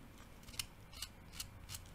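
Pencil being sharpened by hand with a knife, giving four crisp scraping strokes in a steady rhythm, close and fairly quiet, with no voices.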